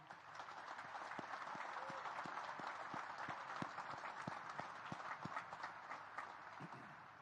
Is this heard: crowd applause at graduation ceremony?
yes